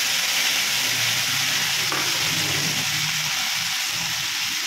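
Finely chopped tomato frying in a pan with onion for mixed greens, giving a loud, steady, close sizzle that hisses continuously with no talking.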